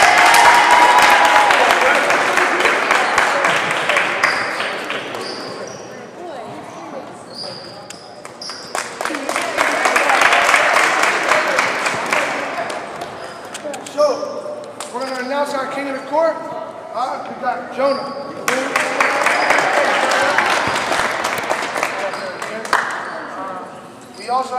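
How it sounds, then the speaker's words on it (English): A youth basketball crowd at an under-12 finals award ceremony breaks into several bursts of loud clapping and applause in a gym, with announcer talk and ball bounces between the rounds. "Let's give a round of applause for Drake"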